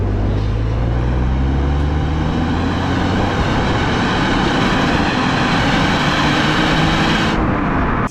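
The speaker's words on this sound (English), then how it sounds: "There's more sort of, a little bit more raw. It's still not loud, which is great, but there's definitely just that sonorous sort of V6 note" An Alfa Romeo's Busso V6 with a BMC induction kit drones steadily while driving, a raw sonorous intake note heard from inside, with the pitch gradually rising and easing over the run.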